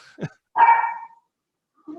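A dog barking during an online meeting: two sharp, fairly close barks about half a second apart, then a fainter third bark at the end, with no voices.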